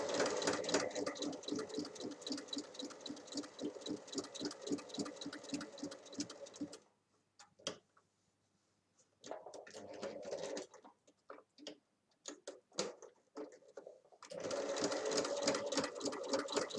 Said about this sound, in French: Et je refais une piqûre sur les points.